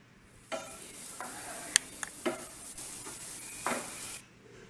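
A pan of vegetable stuffing mixed with mashed potato being sautéed, with a soft steady sizzle broken by a few sharp spatula scrapes and taps against the pan.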